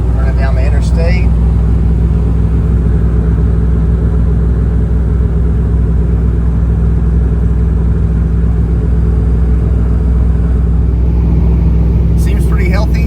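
Truck with a supercharged LS engine and Magnuson supercharger cruising down the interstate, a steady low rumble of engine and road noise heard from inside the cab, loud and unbroken throughout.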